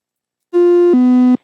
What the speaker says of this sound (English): That sound is just me disengaging the autopilot.